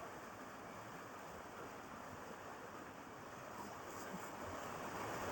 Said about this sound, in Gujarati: આ રેણે પાણી હાલ્યું છે એ બતાવી દો